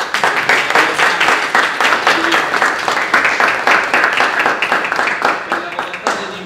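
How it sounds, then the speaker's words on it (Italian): Audience at a press conference claps loudly and steadily in a sustained round of applause, close and dense, with a voice talking faintly underneath. "vorrei che un applauso se lo volete."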